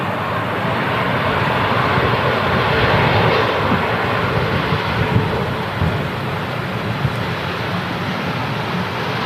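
A Lufthansa Airbus A321 airliner rolls out along the runway at Manchester Airport, its engines giving a loud, steady broadband roar that swells slightly and then holds for the whole stretch, with no talk over it.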